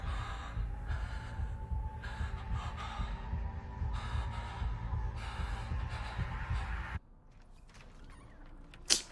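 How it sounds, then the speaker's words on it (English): A throbbing heartbeat effect pulses steadily in the Texas Chainsaw Massacre video game over a low ambient hum, then cuts out to quieter background with a brief thump at the end. "heart beating. I can hear it."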